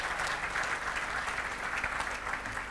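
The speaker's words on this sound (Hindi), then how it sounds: "मैं उनके लिए चाहूँगा ज़ोरदार ताली बजाइए" Steady applause from an audience at an award event: a dense, even wash of clapping that holds at the same level throughout, slightly distant, with no voice over it.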